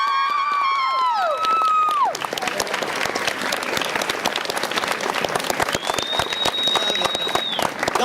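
An audience claps and cheers for 4-H members. The sound starts under a fading held tone, then grows into loud, ragged applause with scattered sharp claps and whoops, and a brief high whistle near the end.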